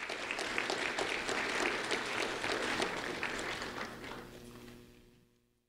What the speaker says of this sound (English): A round of applause for Lucy and Levi,